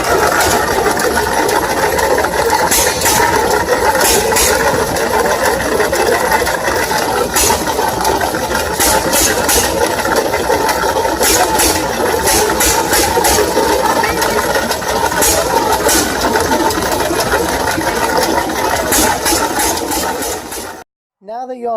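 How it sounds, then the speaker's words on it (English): A hit and miss engine runs steadily and loudly for about twenty seconds, with a dense mechanical clatter and repeated sharp bursts above it, then stops abruptly at the end. "It's a hit and miss engine."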